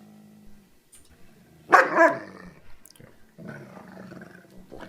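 A dog's low, rough growl rises briefly and loudly, followed by a quieter rumbling growl, in an otherwise quiet room.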